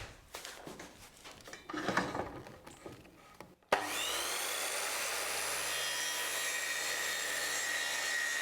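A circular saw spins up sharply and holds a steady high whine while making a very thin, shallow cut in plywood, loud and continuous after a stretch of quieter handling noise.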